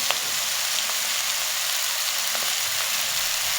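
Olive pickle sizzles and fries steadily in hot oil, a close, continuous crackling hiss with faint stirring scrapes mixed in.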